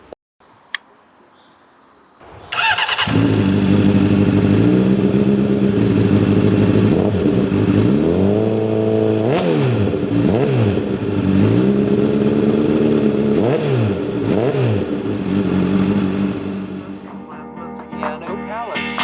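A 2014 Honda CBR 600RR sport bike engine starts up close by and idles loudly, then is blipped through several sharp rising-and-falling revs before it cuts off and a voice speaks briefly.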